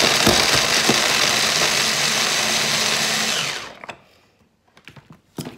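A loud kitchen appliance, likely a blender or food processor, runs steadily at full power for nearly four seconds, then cuts off, leaving faint clatter and handling knocks.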